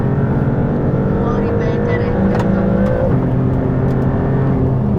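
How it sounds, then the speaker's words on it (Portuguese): A Maserati GT2 Stradale race car on a circuit, its engine note dropping under hard braking, loud and close from inside the cabin with steady droning roar throughout. "Travagem forte novamente."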